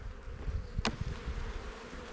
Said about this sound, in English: There's tons of bees here.